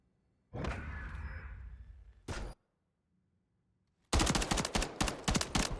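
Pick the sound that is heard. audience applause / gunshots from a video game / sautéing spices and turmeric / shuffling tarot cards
gunshots from a video game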